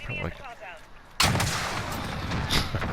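A loud blast of weapon fire in Call of Duty Modern Warfare bursts in suddenly after a quieter stretch, then rumbles and crackles as a sustained explosive roar with a later swell.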